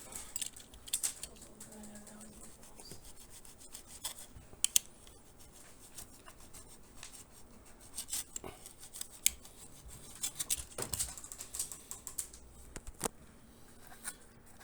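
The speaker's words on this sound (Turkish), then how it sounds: "Silikonların fazlasını eğri bir şekilde keseceğim." A knife trims excess hot glue silicone along the edge of a sandal in repeated small cuts and scrapes, with crisp snips and ticks spread unevenly through the stretch at close range and no talk.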